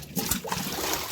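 A new shirt is rinsed by hand in a tub of clean water during home laundry, with soft continuous sloshing and trickling, fairly quiet and steady, and no voices.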